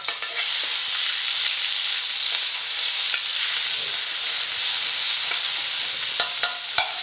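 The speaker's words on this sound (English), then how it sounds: "we're going to go in first of all with our tablespoon of garlic and a teaspoon of ginger, and we'll just cook that off" A tablespoon of garlic and a teaspoon of ginger sizzle loudly and evenly in a hot pan for chicken tikka curry. A few light clicks of stirring come in near the end, and nobody talks.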